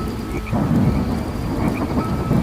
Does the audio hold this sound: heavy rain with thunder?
yes